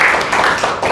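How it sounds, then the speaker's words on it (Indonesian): Applause from a young adults church service audience, a short, close burst of many hands clapping with fairly even, dense texture lasting about a second. "kita berikan tepuk tangan kepada teman-teman yang udah datang"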